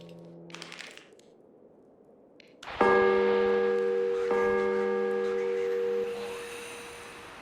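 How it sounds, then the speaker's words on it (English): A radio in the video game Sunken Engine rings out an incoming fax or call: a bright, bell-like electronic tone with sustained harmonics that starts abruptly, restrikes once partway through, then fades, after a few faint earlier blips. "You hear that radio? And that is the sound of a fax coming through or a call."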